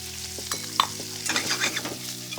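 Cooked crab and crispy bacon tossed together in a hot pan for crispy rice, giving a loud, steady sizzle with several sharp scraping clatters as the food is turned; no voices.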